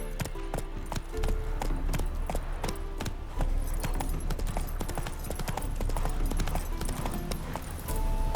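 Roach the horse clip-clops along in The Witcher 3: Wild Hunt, Heart of Stone, with a steady, close rhythm of hooves over a low, constant backdrop.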